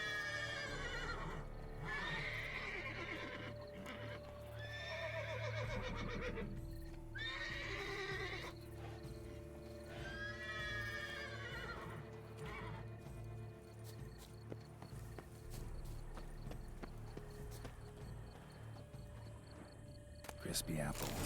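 A horse in The Witcher 3 lets out several whinnies and snorts, with clip-clopping hooves and a steady game ambience of droning tones and crickets running underneath.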